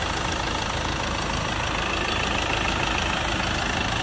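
A 2.2-litre diesel engine in a 2017 Ford Ranger XLS automatic pickup idles with a steady, dense, continuous clatter and hum, close and unchanging throughout.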